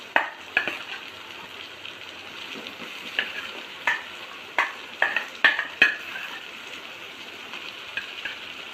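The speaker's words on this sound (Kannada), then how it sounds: "ಈರುಳ್ಳಿ, ಹಸಿಮೆಣಸಿನ್ಕಾಯಿ, ಕೊತ್ತಂಬರಿ ಸೊಪ್ಪು ಎಲ್ಲ ಈ ಥರ ಎಣ್ಣೆಯಲ್ಲಿ ಚೆನ್ನಾಗಿ ಫ್ರೈ ಆಗ್ತಾ ಇದೆ" Onion, green chili and coriander fry in hot oil for an alasande kaalu palya, a steady soft sizzle broken by a string of sharp spoon scrapes and taps against the pan.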